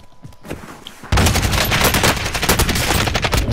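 Loud, dense bursts of rapid gunfire from an online shooter video game start abruptly after a quiet second and continue without pause.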